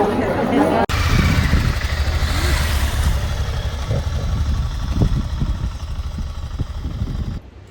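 Motorcycle engines running on a long ride in Tajikistan, a loud steady rumble close by with a sharp cut near the start, overlaid by chatter and voices of riders.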